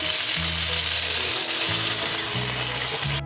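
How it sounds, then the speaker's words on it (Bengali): Potato and peanuts frying in hot oil make a steady, dense sizzle, with a low mechanical hum pulsing underneath and no voices. "একটু ভেজে ভেজে দিলাম"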